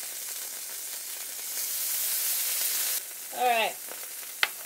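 Butter melts in a hot pan before pancakes, giving a steady sizzling hiss up close that suddenly drops, followed by a short warbling squeak and a sharp click, with a brief spoken word.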